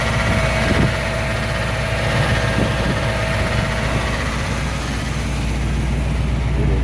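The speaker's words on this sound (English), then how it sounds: "You can hear the engine." A 1978 Chevy C10 Scottsdale pickup idles with turn-down exhaust, giving a steady, loud, low rumble close by that holds even throughout with no talking.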